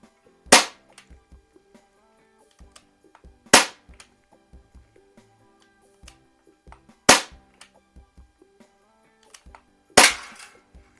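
Four sharp BB gun shots from a Daisy 340 and an Umarex XBG, evenly spaced a few seconds apart, loud and close with faint handling clicks between them and no talking.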